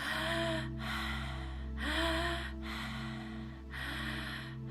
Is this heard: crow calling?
no